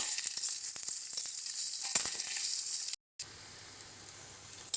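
Chopped onion and a bay leaf sizzle in hot mustard oil, a loud close crackling hiss with small pops, cut by a brief silent break before a quieter stretch.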